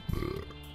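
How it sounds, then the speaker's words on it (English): A single short, low burp, close to the microphone and fairly quiet, with no talking around it. "excuse me, as I burp in y'all's ear"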